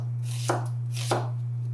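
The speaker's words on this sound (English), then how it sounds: "This is our sweet yellow onion that I'm going to thinly slice up." Two crisp knife strokes slicing a sweet yellow onion on a cutting board, evenly spaced about half a second apart, close and clear over a steady low hum, with no talking.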